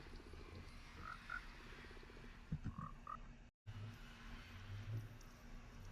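Frogs croaking in the Minecraft video game, a few short soft croaks spaced irregularly over quiet ambient game sound, with no talking.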